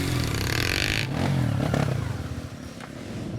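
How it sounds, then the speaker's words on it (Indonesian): Motorcycle engine labouring and revving up a rocky, muddy hillside road on a landslide-hit route in South Sulawesi, loud and close with clattering and scraping over the stones. "Seringkali kami harus turun dari motor untuk berjalan karena kondisi motor yang sulit menanjak"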